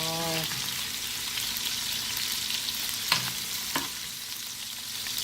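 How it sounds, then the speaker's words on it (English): Chicken pieces for creamy ranch chicken and rice brown in a pan, giving a steady close sizzle and frying hiss, with a couple of sharp scrapes or taps near the end. "we just got to get the rest of these pieces browned up"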